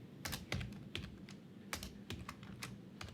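Computer keys clack in short, irregular bursts of close, quiet typing with small pauses between strokes.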